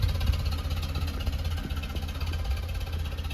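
A Land Rover Series 3 engine idles steadily with the choke out after a cold start, a continuous low rumble with a faint rhythmic knock, close by and alone.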